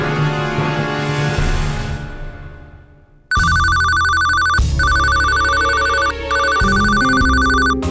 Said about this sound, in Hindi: मोबाइल पर इस रोज अचानक एक घंटी बजती है